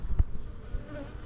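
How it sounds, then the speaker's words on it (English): Honey bees in an open hive during a mid-September inspection, clustered on the center frames, giving a faint, steady insect hum with a thin sustained high tone and a couple of soft low bumps. "there's a nice concentration of bees right in the center"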